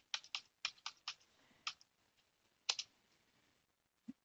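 Fingers type a MySQL create database command on a computer keyboard in bursts of crisp, close clicks. A few rapid runs of keystrokes give way to a pause, then a lone later tap and a final press, with no talking.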